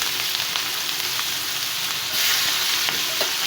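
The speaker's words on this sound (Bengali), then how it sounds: "এই পেঁয়াজ কুচির সঙ্গে এলাচটা একটু ভেজে নেব।" Chopped onion and cardamom frying in a pan while a Pangasius fish bhuna is cooked, giving a steady close sizzle with light stirring clicks throughout and no talk.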